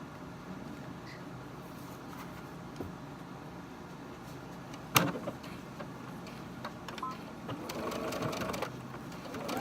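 Sewing machine with black thread and a black bobbin stitching a hem on a pair of shorts: a quiet, steady mechanical whir with light ticking and one sharp clack partway through.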